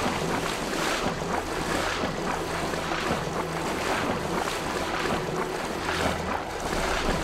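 Rushing water from a waterfall in the video game Divinity 2, a steady broadband roar with no breaks, constant and moderately loud, heard alone without speech.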